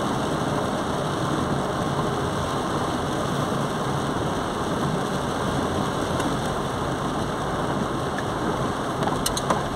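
Steady heavy rain drumming on a vehicle driving in Lapão, Bahia, with a low engine hum underneath and a few faint clicks near the end.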